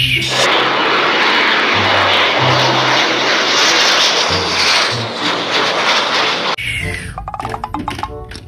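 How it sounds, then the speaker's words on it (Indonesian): An airplane engine roars loudly and steadily for several seconds, then cuts off abruptly and gives way to fluttering, uneven rattles, no voices. "Wow, ada pesawat terbang CityLink"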